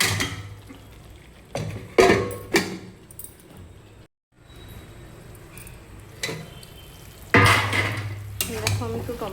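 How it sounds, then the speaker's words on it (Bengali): Tomatoes being stirred into an eggplant curry in a pot, with scattered clinks and scrapes of a utensil against the pot under a low simmering hiss, broken by a brief silence partway through. "দেখো আমি একটু টমেটোগুলো ফেলে কিছু নেড়ে দেবো।"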